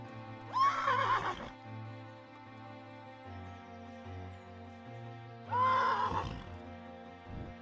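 A horse in a video game gives two loud, shrill whinnies a few seconds apart over a soft, steady background tone.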